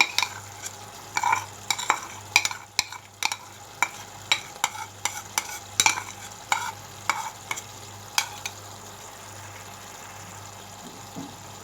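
Minced meat keema frying in a pan with onion, tomato and yogurt, stirred with a spoon that scrapes and clinks in a steady run of sharp knocks over a continuous soft sizzle.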